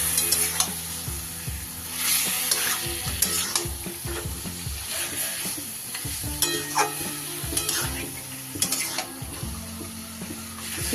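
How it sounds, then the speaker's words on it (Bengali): Chicken for rezala being stirred with spices in a pan, the spoon scraping and sizzling in steady, close bursts with no talk. "খুব ভালো করে মিশিয়ে নেব মশলার সাথে।"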